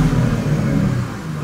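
A Porsche Panamera fitted with a sport exhaust revs up close by, a deep, loud rumble that surges and then slowly eases off.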